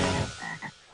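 A frog gives a short croak at close range, one brief rasping call that fades quickly, heard without other sounds.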